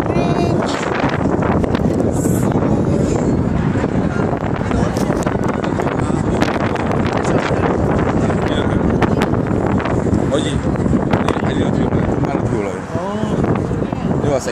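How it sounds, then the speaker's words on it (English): Strong wind buffets the microphone near the Golden Gate Bridge in San Francisco, a steady loud roar that persists across the whole stretch with a faint voice underneath. "Behind the bridge, it was very windy and cold."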